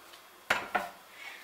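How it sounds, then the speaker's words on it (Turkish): A frying pan set down on a kitchen stove, two sharp metallic clanks in quick succession, close and clear in a quiet room. "Tavamı ocağa alıyorum."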